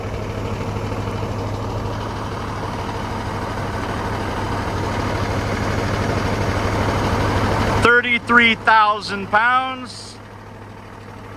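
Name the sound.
military truck engine, 400 horsepower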